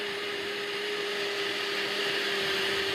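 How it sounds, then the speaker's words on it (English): Kitchen blender whirring steadily as it purées a salad dressing of vinegar, lemon, Parmesan, fresh garlic, Italian seasoning and salt, a constant close motor drone with no talk. "We put that in a blender and give it a whirl."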